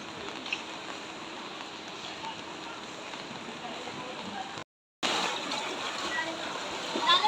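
People splash and wade in high storm floodwater during a high tide in Navotas City, Philippines. The water sounds as a steady broadband rush with one brief dropout, with voices likely mixed in.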